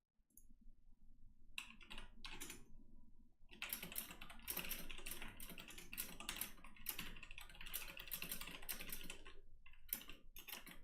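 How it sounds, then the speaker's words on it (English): Rapid typing on a computer keyboard, close and continuous, with dense clustered clicks and brief pauses between bursts; no talking. "just typing to my web dev real quick while we wait for the next match."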